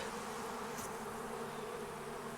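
A honeybee swarm buzzing around a swarm trap, a dense, steady drone of many wings heard close and continuous, with no talking.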